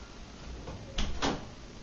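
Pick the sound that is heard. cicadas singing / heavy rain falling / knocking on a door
knocking on a door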